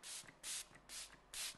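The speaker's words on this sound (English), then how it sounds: "And then we finished off with the Dior setting spray." Dior setting spray misted in four quick, close bursts with short pauses between, each a soft airy hiss, quiet and with no talking.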